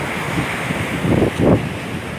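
Ocean surf rolling onto the beach at Ranca Buaya, Garut, heard as a steady broadband wash with wind noise on the microphone and two louder swells breaking close by.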